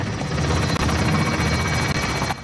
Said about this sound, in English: Is that a helicopter still?